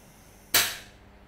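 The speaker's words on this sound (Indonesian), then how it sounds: "Lalu masak, nyalakan api." A gas stove burner being lit for cooking rice porridge with coconut milk, lemongrass and galangal: a single sharp ignition click or pop, close and loud, decaying quickly over the next half second, with no talking.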